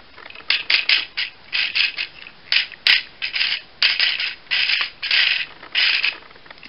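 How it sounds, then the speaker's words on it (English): Ratcheting hip joint of an Optimus Prime action figure (Power of the Primes Evolution), a rapid series of short plastic clicking bursts, close and distinct, repeating steadily as the leg is moved, with no talk. "Hips, definitely more ratcheted than Hot Rod's. Rod misses. You can hear that ratcheting"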